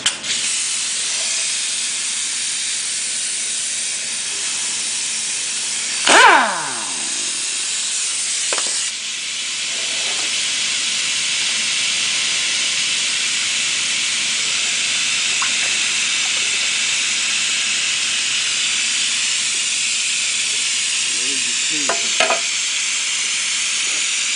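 Transmission fluid pouring out of an Audi TT's automatic transmission pan, a steady close hiss of liquid spattering, with a few sharp clanks of the pan or tools partway through.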